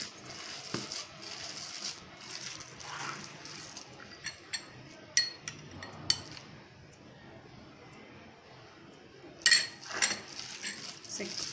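Vegetable manchurian batter with chilli sauce and egg mixed in a bowl: scattered metallic clinks of a spoon against the bowl, sparse and soft at first, with a brief louder burst of scraping near the end.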